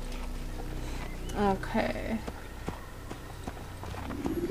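Horse hooves clip-clopping at a brisk pace in the Assassin's Creed video game, rhythmic thuds under game ambience while a player talks over it.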